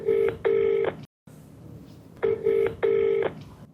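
A telephone number is being dialed for a call, two pairs of loud, clear electronic tones separated by a short silence, each tone held evenly with no speech over them.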